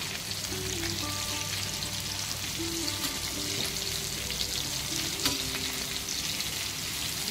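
Jitada fish frying in a pan, a steady, even sizzle of hot oil that holds at a constant level with no talking.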